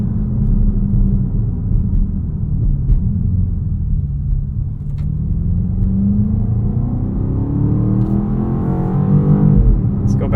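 A BMW X5 M Competition accelerating hard, heard from inside the cabin: a loud, steady low engine roar that builds and rises in pitch through the gears for about ten seconds.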